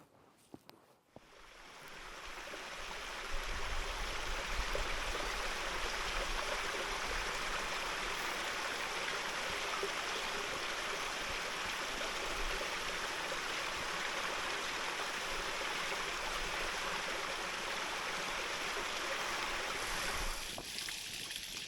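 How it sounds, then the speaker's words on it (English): A mountain stream in Snowdonia rushes in a steady broadband wash, starting quietly, then swelling loud and continuous as the microphone nears the water, with some wind buffeting and no voices. "I'm heading up to some fresh water in the stream there."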